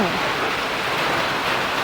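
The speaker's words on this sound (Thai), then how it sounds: "ฝนตกพี่น้องเลย ตอนนี้ก็ยังบ่เศร้า ตกบดมือมือนี้ พายุเข้าพี่น้อง" Heavy rain pours steadily during a storm, a close, dense, continuous hiss and patter with no pauses.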